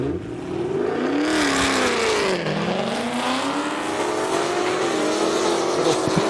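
Drag racing cars at an airstrip event, including a blue Dodge and a Corvette Grand Sport, roar loudly as engines rev and wind up through gears, with pitch sweeping up and down over a continuous close growl.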